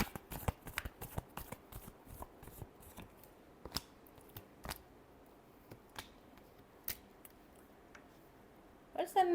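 Tarot cards are shuffled up close, a quick series of crisp riffling snaps and flicks that slows into scattered single taps, fairly quiet, with a short burst of voice right at the end.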